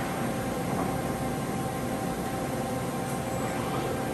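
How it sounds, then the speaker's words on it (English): A Toshiba CNC table horizontal boring mill runs its spindle in low range, giving a steady, quiet, even hiss-like hum with no change in level and no one speaking. "Now we're in the low range. Machine is quiet in both ranges."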